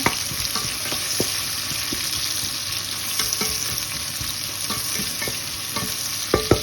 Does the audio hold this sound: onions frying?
yes